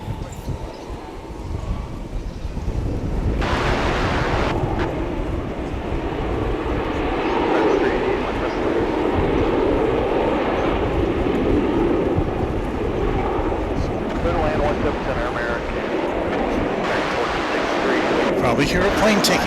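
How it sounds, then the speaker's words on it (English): Airliner taking off at Dallas/Fort Worth airport, a broad sustained engine roar that builds and holds steady throughout, fairly distant, with no talk over it. "hear a plane taking off there"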